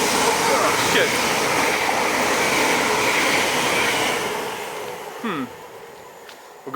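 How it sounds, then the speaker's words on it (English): A loud, steady rumble of a passing train on Millhall Road, Stirling, Scotland, fills the scene, easing off toward the end as a faint squeal rises. "We've got a train and we're in a bad position."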